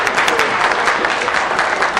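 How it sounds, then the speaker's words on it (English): Steady applause from a crowd at a fundraiser, greeting York Regional Councillor Joe Lee; dense, continuous clapping fills the whole moment with no talk. "So let's give him a big round of applause"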